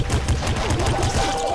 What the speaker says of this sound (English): This is a normal shot.